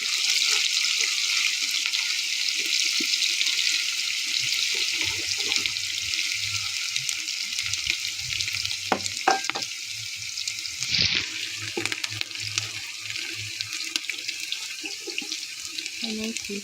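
Onion and ginger garlic paste fry in a pot with a steady, close sizzle and hiss that runs the whole time, with occasional stirring scrapes and one brief louder crackle near the middle.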